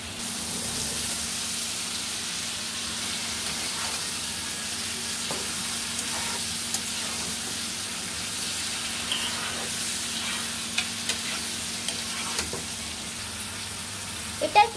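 Washed sponge gourd sizzles in a pan of hot oil with coriander powder, salt and green chillies, a steady close frying hiss with occasional soft stirring clicks.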